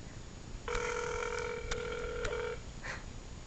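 Telephone keypad tones during a prank call: a quick, clear run of dialing beeps lasting about two seconds, then a short tone, heard alone at moderate volume.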